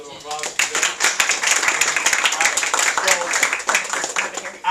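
A room of attendees at a real estate sales event breaks into a round of clapping, with sharp individual claps rising into a busy, uneven patter that mixes with talk at close range.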